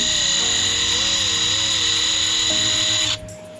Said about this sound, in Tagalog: mag-check tayo ng airflow ng impact wrench